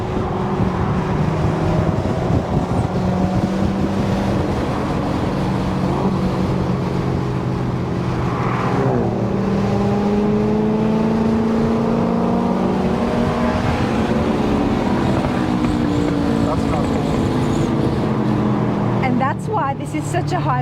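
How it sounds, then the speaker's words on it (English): Corvettes cruising the Tail of the Dragon mountain road, a steady loud engine drone with shifting pitch sweeps as cars run close in front and behind, continuous throughout with a voice talking over it. "the Corvette sound is just absolutely brilliant in front of us and behind us"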